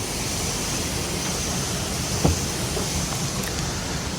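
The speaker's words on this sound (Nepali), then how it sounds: "यहाँ चाहिँ पानी घट्टो रहेछ।" A traditional water-powered mill (ghatta) on the trail toward Sursing Waterfall in Helambu, with a steady broadband rush of running water that stays even throughout and has one brief knock near the middle.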